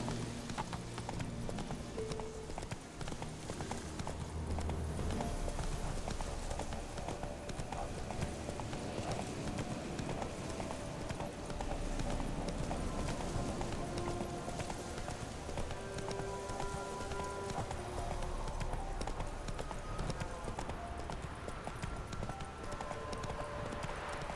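A horse gallops in the video game The Witcher 3: Wild Hunt, with rapid, steady clip-clop hoofbeats that run throughout, close and continuous, under a dense game soundscape.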